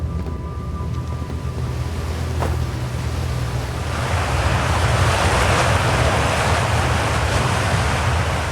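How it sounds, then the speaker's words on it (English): Water geyser in the video game Outer Wilds, a loud, continuous rushing roar of spraying water and wind that swells and thickens midway, with no voices. "I suppose riding a geyser is one way to do this"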